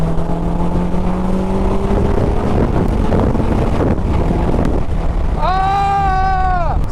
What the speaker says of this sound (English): So today is a very windy day.